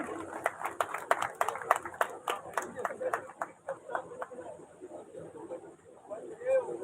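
Applause breaks out for Sharma ji at a Parshuram Jayanti celebration in Udaipur: a crowd claps in a dense burst that gradually thins out, with chatter running beneath.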